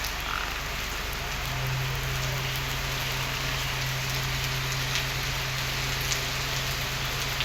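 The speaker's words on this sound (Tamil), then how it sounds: "மழை தட்டு தட்டுன்னு தட்டி எடுக்குது" Heavy, steady rain pours continuously on the road to Sabarimala at night, with a constant dense hiss throughout, a low steady hum beneath and frogs croaking in the background.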